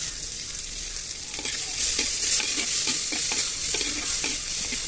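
Chopped onions with a little salt sautéed in a pan, with a continuous sizzle and repeated scraping stirs that grow a bit louder partway through, and no talking.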